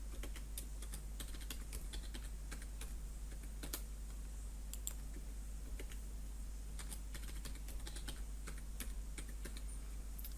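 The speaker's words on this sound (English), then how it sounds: "I'm going to type in my password." A password is typed on a computer keyboard as a quick run of crisp, irregular key clicks, close and quiet, with no talk.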